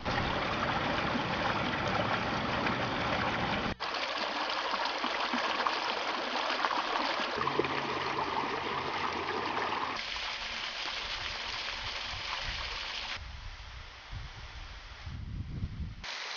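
Water pouring over a small falls in Indiana and running on downstream toward the Wabash River, a steady broadband rushing that shifts in character partway through, continuous and fairly close with no voices.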